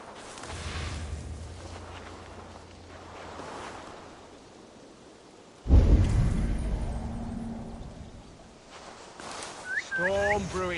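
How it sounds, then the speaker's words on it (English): A heavy thunder-like boom strikes in a video game storm, following a stretch of low wind and rumbling ambience and decaying into rolling noise, with brief tonal game sounds near the end. "Storm brewing there."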